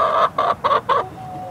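A hen clucks in a backyard chicken coop, four quick, close bursts in a row, followed by a faint thin tone fading out.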